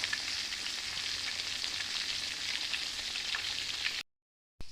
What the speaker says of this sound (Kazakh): сразу котлетті қуырып бастадым.